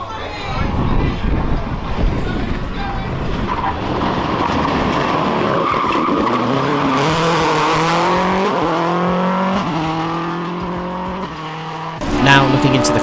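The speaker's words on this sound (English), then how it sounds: "would be Dane Skeet, driving his Subaru S12 WRC." A Subaru S12 WRC rally car at a spring rally sprint event drives hard, its engine note climbing and dropping through the gears with some tyre noise, loud and near before a brief dip and a final loud surge.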